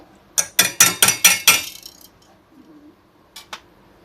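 A whisk clinks rhythmically against a pan of bechamel sauce made with an onion teabag: six quick metallic strokes, a pause, then two more taps.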